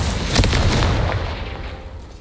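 A Confringo fire spell blast from the Hogwarts Legacy video game lands as one loud, booming burst. It breaks open sharply, then a roaring rumble fades over about two seconds.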